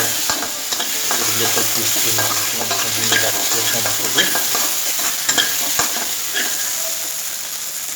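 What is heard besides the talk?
onion and garlic paste frying and being stirred in pan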